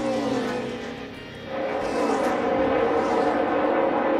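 A NASCAR Cup Series race car engine drones steadily at a distance, dipping briefly as the driver lifts off for a turn before swelling back to a sustained, even roar.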